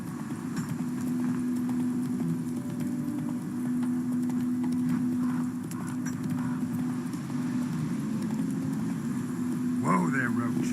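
Horse Roach's hooves clip-clopping at a steady trot in The Witcher 3: Wild Hunt, a continuous rhythmic clatter over ambient hum, with a brief voice near the end.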